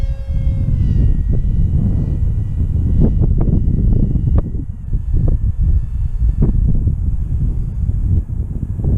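A HobbyZone AeroScout S2 radio-controlled airplane taxiing on the ground in high wind, its small electric motor whining in rising and falling pitches over heavy wind buffeting on the microphone.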